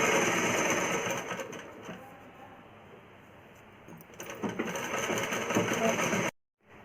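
A sewing machine stitching an umbrella frock for a small child, a steady close whirring run that dips in the middle and surges again before stopping abruptly, with faint voice beneath.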